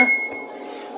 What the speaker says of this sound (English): I'm gonna drop a nice cube there